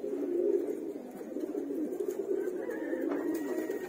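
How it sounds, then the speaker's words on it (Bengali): A pair of young fancy pigeons, male and female, coo in a loft, producing a continuous low, throaty rolling murmur heard close up with no talking. "ছোট বাচ্চা কবুতর, এই দুইটা এক পেয়ারের কবুতরই"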